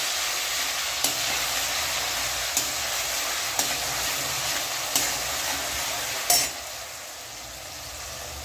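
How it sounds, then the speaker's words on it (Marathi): Ginger and garlic sizzle steadily in a pan as a tempering for pav bhaji while a spoon scrapes and taps the metal every second or so, then the frying quiets near the end. "मिक्सरमध्ये काढेपर्यंत हे छान फ्राय होईल"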